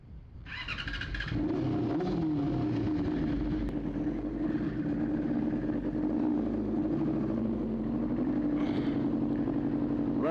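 A loud motorcycle engine idles steadily and close, a deep rough rumble with a brief rise at the start and a slight swell near the end.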